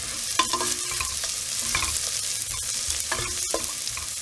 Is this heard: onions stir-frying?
yes